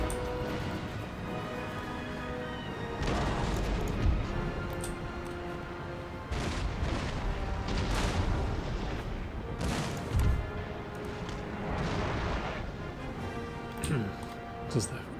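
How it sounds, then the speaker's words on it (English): Ship cannon broadsides from an Empire: Total War naval battle, heavy booms repeating in uneven bursts over a dense, continuous battle din, with speech-like sound mixed in. "Round shot, load your broadside."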